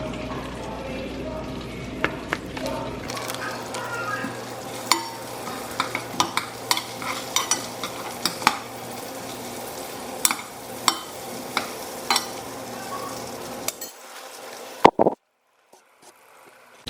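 Pierogies fry steadily in a pan with a soft continuous sizzle, punctuated by frequent clicks and pops, then the frying cuts off near the end.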